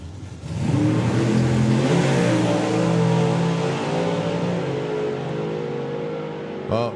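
A nitrous-fed Ford Pop and a throttle-stopped rival launch side by side at a drag racing event, engines surging into a loud rising roar that holds, then fades as the cars pull away, ending with a short sharp burst.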